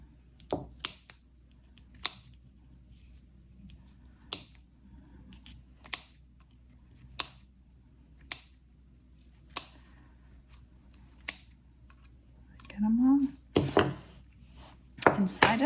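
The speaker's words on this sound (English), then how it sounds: "you just want to, with very sharp scissors," Sharp, isolated snips of very sharp scissors cutting yarn, spaced a second or two apart over a quiet background, with a quicker cluster of cuts and rustling near the end.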